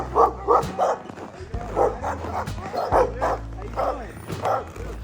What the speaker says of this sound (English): followed the sounds of excited barking